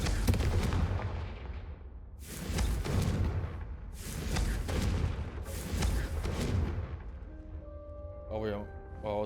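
Confringo fire spell casts striking candelabras in Hogwarts Legacy, several sharp bursts in a row with fiery whooshing tails, mixed in with voices.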